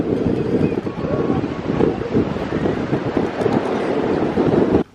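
Strong, gusty wind buffets the microphone on a beach at Castaway Cay in a continuous low roar, with a faint wash of surf beneath it.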